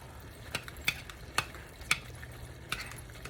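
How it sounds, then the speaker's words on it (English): Cheeseburger helper thickened with cream cheese being stirred in a pan, a spoon scraping and clacking in a few distinct strokes over a faint sizzle. "now I'm going to mix all of that together"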